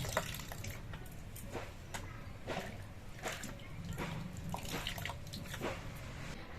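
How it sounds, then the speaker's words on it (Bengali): Taro roots being washed again in a basin of water, with steady sloshing, dripping and splashing close by, repeated handling strokes spread across the whole stretch with no talk. "কচুগুলো আর একবার ধোয়ার জন্য আবার আমি গামলার মধ্যে নিয়ে নিচ্ছি"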